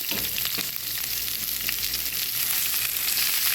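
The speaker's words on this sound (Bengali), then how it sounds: "শুকনো মরিচটা আমি ভেজে নেব" Dried chilies, green chilies, garlic and onion fry in hot oil with a dense, even sizzle that stays loud and close the whole time, with faint stirring early on and no voices.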